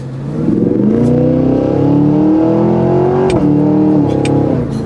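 A Cadillac Escalade V's supercharged V8 revs loudly up close, a rising, throaty engine note that climbs, holds, dips and climbs again with a steady rumble, no voices over it.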